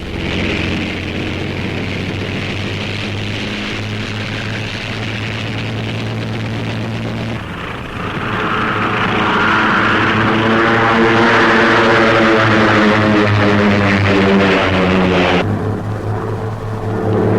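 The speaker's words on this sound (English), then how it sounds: "U.S.-trained Brazilian pilots take home training planes for their rapidly growing Air Force, flying them direct from North to South America." Propeller training planes in flight, from a 1942 newsreel, make a continuous droning engine hum that swells louder and brighter partway through, then drops back near the end, with no talking.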